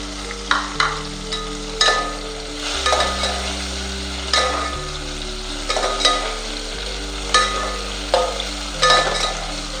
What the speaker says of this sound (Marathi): टोमॅटो पण थोडंसं परतू देणार आहे मी.